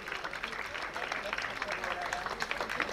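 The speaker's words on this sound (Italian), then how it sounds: "fate un applauso a queste bellissime ragazze" Audience applause at a book presentation in Camigliatello Silano, a steady patter of many hands clapping at moderate distance, mixed with crowd murmur and a voice speaking over it.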